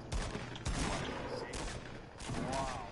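Distant gunfire in an online shooter video game crackles in scattered bursts over a busy background, with speech faintly present.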